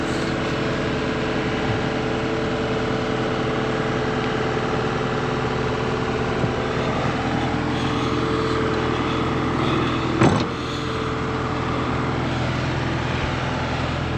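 CASE CX50D mini excavator engine idling nearby, a steady low mechanical drone with a constant hum throughout and one brief clunk near the end, no talking.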